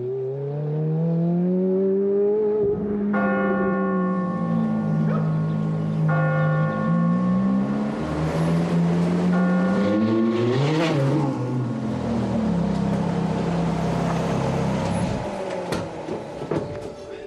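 A Ferrari F430 V8 sports car with 490 horsepower accelerates hard on a track, its engine rising loud and close through several gear changes, each shift breaking the climbing howl before it builds again.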